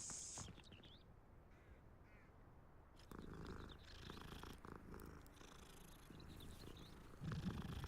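A cat purrs softly in the video game Hogwarts Legacy, a faint continuous rumble under quiet ambient game noise that thickens slightly partway through.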